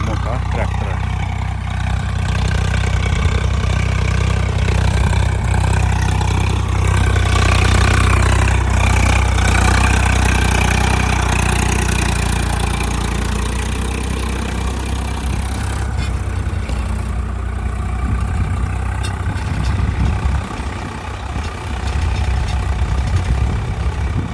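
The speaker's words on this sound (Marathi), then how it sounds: "आता ट्रॅक्टरच्या सहाय्याने रान नांगरायला सुरू आहे" A tractor engine drones steadily while ploughing a field, a loud low rumble that swells and eases slightly as the load changes, with someone talking over it.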